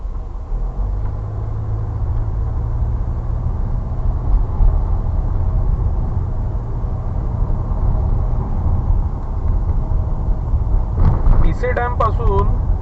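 Continuous low rumble of a car driving on a road near Badlapur with wind buffeting the microphone, steady and moderately loud, with a brief burst of faint chirping near the end.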